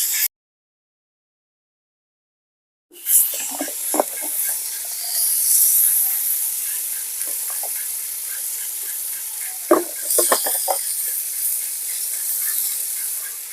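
Mutton pieces with salt, turmeric and chili powder frying in a pan for mutton fry: after a few seconds of silence, a loud, steady sizzle and hiss sets in, with occasional clatter from stirring.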